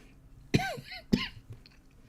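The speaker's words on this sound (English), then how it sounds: "sorry for the coughing, fighting off bronchitis" Two sharp, close coughs about half a second apart, followed by a faint third, with no talking.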